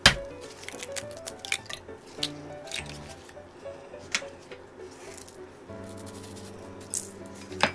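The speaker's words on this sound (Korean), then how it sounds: "세 개를 깨놓고 소금 간 약간해서 풀어줍니다" Three eggs with a pinch of salt are beaten in a bowl for shrimp skewer pancakes, with quick, uneven wet squishes and light utensil clicks against the bowl, close and fairly quiet.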